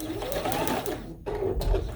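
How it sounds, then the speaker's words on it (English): A sewing machine stitches along a quilt row for a Christmas tree quilt top and then back stitches at the end, a steady mechanical whir with a brief pause before the motor resumes, close and fairly loud. "I'm going to back stitch at the end of this row."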